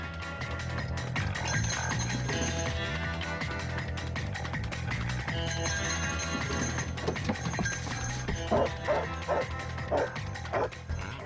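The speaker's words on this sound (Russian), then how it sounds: "Десять минут, и Торин подает голос." A search-and-rescue dog barks repeatedly nearby in short bursts, signalling a find, with yips and whimpers mixed in over a noisy outdoor background.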